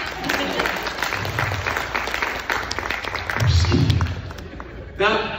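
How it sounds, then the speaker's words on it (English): Clapping from a convention panel audience at a horror event, a continuous spread of hands through the room that swells slightly toward the end, with crowd murmur and a voice mixed in. "You can clap now."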